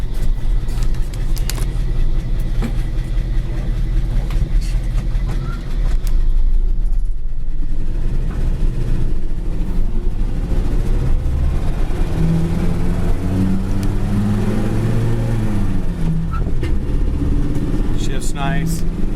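A 1953 Ford F100 pickup cruising down a road, with steady engine drone and road noise from inside the cab and a gear change partway through; someone talks over it throughout.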